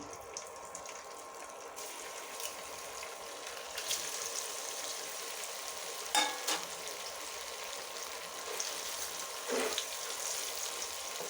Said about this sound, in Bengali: এই যে পনিরগুলোকে এখন আমি ভেজে নেব